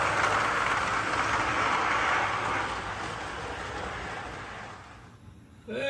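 An O/On30 scale model train rumbles and clatters along steadily, close and loud, then fades toward the end before a brief sharp noise.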